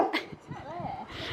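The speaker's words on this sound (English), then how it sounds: "I made him bark at nothing." A dog outdoors lets out a brief bark and whine amid close, steady talk from people nearby.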